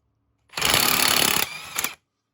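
A LIDL cordless socket wrench runs close and loud with a harsh buzzing whir for about a second, stops briefly, then gives one short second burst before going silent.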